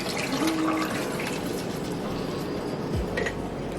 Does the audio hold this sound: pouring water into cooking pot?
yes